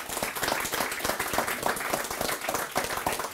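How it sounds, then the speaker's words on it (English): An audience at an energy-economy panel event applauds a panelist, with dense sustained clapping from many hands filling the room at a steady level throughout. "join me in applauding this fantastic panelist"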